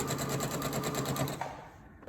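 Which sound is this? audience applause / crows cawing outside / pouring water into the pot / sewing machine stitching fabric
sewing machine stitching fabric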